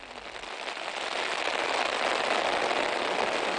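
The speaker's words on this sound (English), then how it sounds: "But as it starts to rain again" Steady rain pours in the Simien Mountains of Ethiopia, a dense even hiss that grows slightly louder and holds without any voices.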